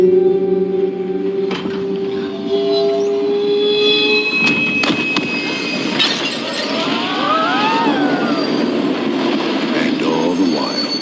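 A train rides along the rails with a loud, steady rumble. Screeching, whining wheel squeals and brief metallic clanks rise over it throughout.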